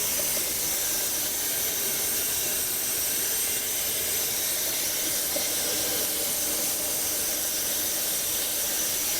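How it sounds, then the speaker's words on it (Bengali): The blower fan of a Chinese-made plastic recycling pellet machine that turns polythene scraps into granules roars with a loud, unbroken, airy whoosh and hiss, steady and close for the whole stretch, with no talk. "এটা হচ্ছে ব্লোয়ার এটা এই ব্লোয়ার দিয়ে চলে আসতেছে এই ফানেলের ভিতরতে"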